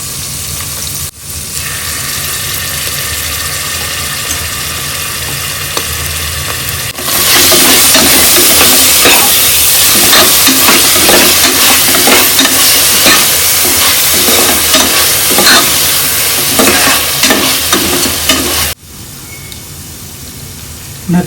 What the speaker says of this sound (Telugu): అల్లం వెల్లుల్లి పేస్ట్ వేసుకుందాం.